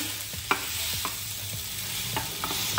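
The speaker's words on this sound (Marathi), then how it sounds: "छान फ्राय झालेले आहेत, आता आपण हा बटाटा टाकू आणि थोडासा स्मॅश करू" Boiled potato is stirred and mashed into masala frying in a pan for a potato filling, with rhythmic scraping strokes of the spoon over a steady, close sizzle.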